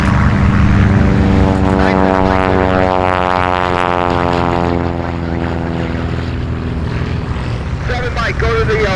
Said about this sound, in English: One on the left, clear for takeoff.